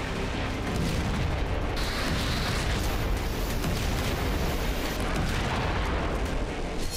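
Artillery fire striking Russian tanks in the Pokrovsk area, heard as a sustained dense roar of rumbling blasts and crackling detonations with no clear pauses, loud throughout and with no speech.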